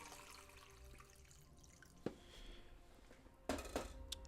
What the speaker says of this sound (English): let me pour my water